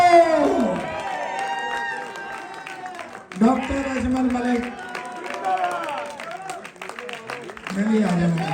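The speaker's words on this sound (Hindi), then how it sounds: "भरपूर तालियां दोस्तों।" A crowd cheers and claps for Doctor Ajmal Malik at an honouring ceremony, the applause running underneath a loud, dominant voice speaking throughout.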